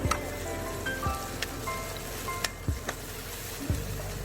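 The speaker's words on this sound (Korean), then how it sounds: "양파와 고기가 잘 섞이도록 볶아줍니다." Sliced onion stir-fried with soy-seasoned meat in a pan, a steady low sizzle with scattered crackles and periodic scraping knocks of a spatula stirring roughly once a second.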